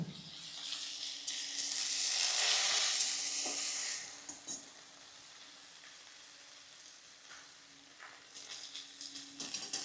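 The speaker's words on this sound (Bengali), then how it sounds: "এবার একটা খুন্তি দিয়ে এটাকে নাড়াচাড়া করব।" Flat beans frying in a pan are stirred with a spatula, a loud hissing sizzle that swells then drops to a quieter simmer, with a few scattered scrapes and clicks.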